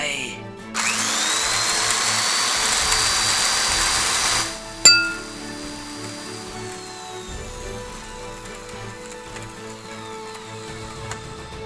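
Power-drill sound effect in a Thai manga dub: a loud, steady whirring grind runs for about four seconds, then stops with a sharp impact and a lingering metallic ring over quieter background sound.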